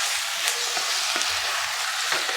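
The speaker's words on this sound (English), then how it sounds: "put it on high heat and then just mix it up" Mutton fries over high heat with a constant loud sizzle, and a handful of brief spoon scrapes against the pan mark the stirring. No one speaks.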